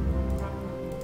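Steady rain patters down in the zombie survival game Project Zomboid, a brief, even wash of hiss and drops with no other sound standing out.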